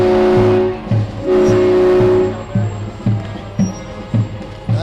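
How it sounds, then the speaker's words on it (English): Burlington Department of Public Works trucks roll past in a Fourth of July parade, their heavy engines droning loudly with rhythmic thumps and a sustained horn-like tone, while voices chatter nearby. "Looks like new DPW trucks."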